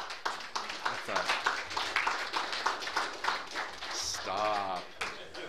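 Clapping from an audience at an Alcoholics Anonymous meeting rattles as a fairly faint, quick run of claps beneath someone talking.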